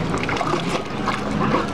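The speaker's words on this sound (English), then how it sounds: "Is that the water jet?" A pool water jet sprays and sloshes continuously up close, a steady broadband wash of churning water with no clear pauses, while a dog is in the pool.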